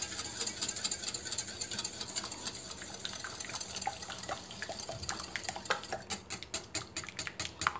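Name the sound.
whisking juice for mboile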